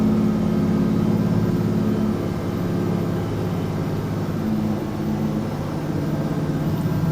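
Twin-engine scraper running with throttles locked on, a steady heavy low engine drone with a constant hum, continuous and loud from inside the machine.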